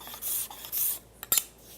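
A hand scraper is skewed across a wooden workpiece, giving a few short, soft raspy strokes with quiet gaps and a sharper scrape near the end.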